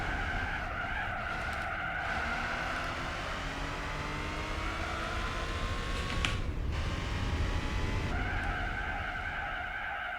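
Car tyres skid and squeal under late braking in the racing game Gran Turismo 4, a sustained whining screech over engine drone that fades and returns for about ten seconds.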